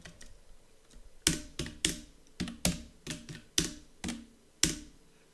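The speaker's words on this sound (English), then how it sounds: "Yes, my keyboard's pretty loud." Loud mechanical computer keyboard typing in a quiet room, a series of about a dozen sharp, bright clacks in irregular bursts, close to the microphone with no talking.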